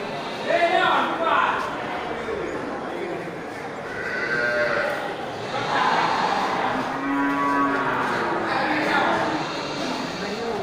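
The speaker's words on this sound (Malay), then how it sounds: "ini sapi simentalnya" Simmental and Simmental-cross cattle at a livestock market in Bireuen, with moos rising over a busy crowd, several calls overlapping through the whole stretch while people talk nearby.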